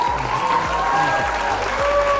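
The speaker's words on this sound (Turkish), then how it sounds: "Alkışlayalım" Family members clap for the winner of a home challenge contest, a brief, close burst of steady applause with a faint tonal background hum running underneath.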